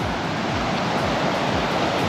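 Strong ocean waves breaking on a beach in Pangasinan, a loud continuous wash of surf with rolling surges, heard alone without voices.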